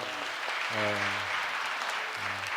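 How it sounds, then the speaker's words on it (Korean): An audience in an Anglican church in Suwon gives a short burst of welcoming applause during a first Sunday of Advent Eucharist service. Someone speaks over the clapping. "환영한다는 인사 박수 한번 보내드리도록 하겠습니다"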